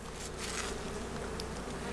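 Italian honey bees swarm in an open hive with a laying queen, giving off a steady, dense buzzing hum that stays close and constant, with no talking.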